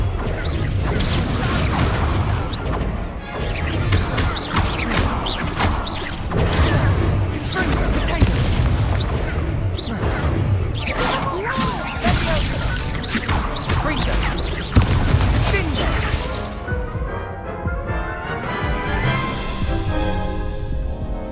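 Confringo fire spells blast repeatedly in Hogwarts Legacy combat, giving loud crashing impacts and booms over a busy, steady background of battle noise that thins out near the end.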